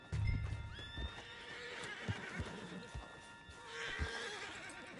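A horse in Red Dead Redemption 2 whinnies loudly in a rising, wavering neigh, with the soft clip-clop of hooves and snorts continuing underneath through the game scene.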